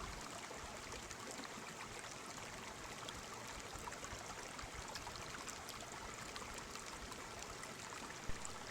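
A small stream in the high jungle of Peru runs over a bed of fine stones, giving a steady, soft, continuous trickle and rush of water with no voices.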